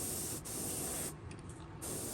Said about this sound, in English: I'm really just gonna spray it where I've got the stenciling done.